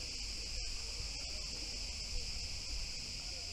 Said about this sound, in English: I wonder what's this on this tree making noise. The crickets.